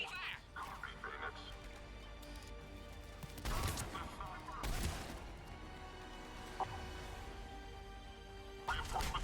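Gunfire in the sci-fi shooter Mass Effect 3 during a heavy attack: scattered sharp cracks and thuds, with two louder bursts in the middle, over a low, busy battle background.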